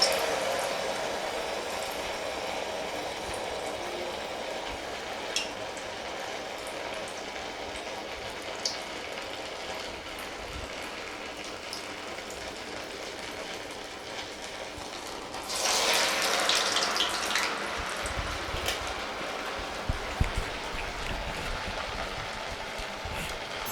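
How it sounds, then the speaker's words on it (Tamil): Vadai made from leftover rice fritter dough deep-fry in hot oil with a steady dense sizzle and crackle, swelling louder partway through as more batter goes in. "இப்போ நம்ம எண்ணெயில் போட்டு பொரித்து எடுத்துடலாம்"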